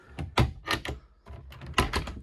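Drawers and storage doors opened and closed aboard a Regal 3560 Commodore cabin cruiser, several close wooden thunks and slides in quick irregular succession with no talk.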